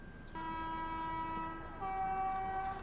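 An Indian express train's horn blares in a sustained two-part chord, heard from aboard a stopped train as another train approaches on the adjacent line, loud and steady with a slight pitch change partway through.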